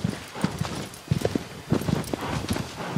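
Horse hooves clip-clopping while riding along a treacherous path in the video game Shadow of the Colossus, an irregular run of close, distinct hoofbeats.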